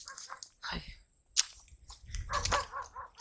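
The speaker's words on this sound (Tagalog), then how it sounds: "Okay, may ngayong aso doon." Dogs barking in a rural village in Sison, Pangasinan, heard while out on a bicycle with hydraulic disc brakes; a few short, moderately distant barks and yips come in bursts amid wind noise.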